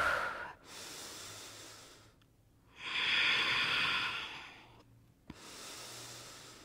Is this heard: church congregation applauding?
no